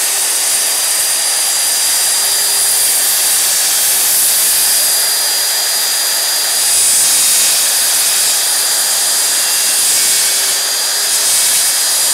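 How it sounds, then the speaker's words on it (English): A belt sander runs continuously on a wooden barn door, a loud steady abrasive roar with a high whine, sanding close up without pause for the whole stretch. "I'll clean it up with the belt sander"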